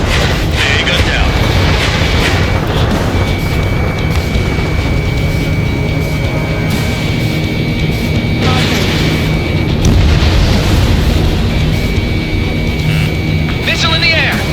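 Explosion of an anti-aircraft gun emplacement in the Ace Combat 7: Skies Unknown flight game, a loud booming blast heard within dense, continuous jet-engine roar and battle noise, with radio chatter speaking over it.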